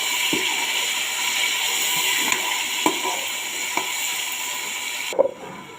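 Chopped tomatoes and onions fry in a pan, giving a steady bright sizzle. Occasional scraping taps from stirring break through, and the sizzle drops away abruptly near the end.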